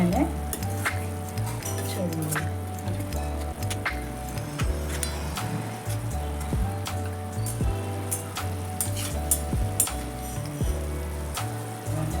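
Hot oil sizzles and crackles steadily with spices for green chevdo, while a spoon scrapes and stirs now and then. No one speaks.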